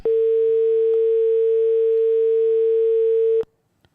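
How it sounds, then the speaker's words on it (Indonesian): A steady telephone dial tone sounds loud and unbroken for about three and a half seconds as a radio studio picks up a call, then cuts off abruptly into near silence. "izin kita angkat telepon dulu ya"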